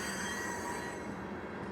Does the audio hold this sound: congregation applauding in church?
no